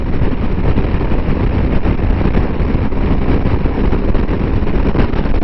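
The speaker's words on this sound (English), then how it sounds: "Oh, the wind is picking up a lot now." Heavy wind buffets the microphone on a BMW R1250 GS Adventure motorcycle at speed, a loud, constant, rumbling roar that fills the whole clip without a break.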